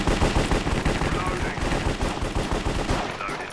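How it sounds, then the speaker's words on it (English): Rapid automatic gunfire rattles on in the Minecraft Cops and Crims video game, dense and loud bursts that run throughout with scarcely a break. "this guy right here, shooting at us."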